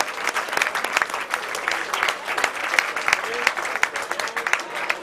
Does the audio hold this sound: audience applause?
yes